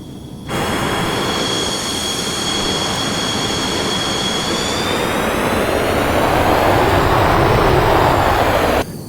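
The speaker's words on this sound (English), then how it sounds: "Engines sound great. They sound very beastly." Roaring SU-27 Flanker jet engines in the MSFS 2020 flight simulator, a loud steady rumble with a high whine layered on top that climbs gradually and holds throughout, cutting off abruptly at the end.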